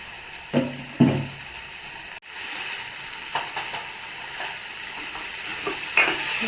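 A spoon stirs turmeric into a tomato curry frying in a pan, giving a steady close sizzle with scraping stirs and occasional knocks against the pan.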